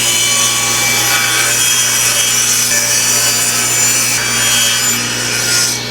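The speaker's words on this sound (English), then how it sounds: "run your jigsaw blade like that so that your jigsaw blade has somewhere to cut" A jigsaw cuts through wood boards with a loud, continuous rasping buzz, close up and steady for the whole stretch, its tone shifting slightly near the end, with no voices.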